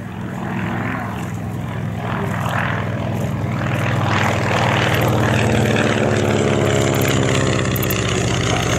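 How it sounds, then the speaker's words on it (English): A Beechcraft D17S Staggerwing biplane flies a display at East Kirkby, its radial propeller engine droning steadily and loudly throughout, swelling slightly as it passes. "D17S, the Staggerwing, flown for us by Peter Kuipers."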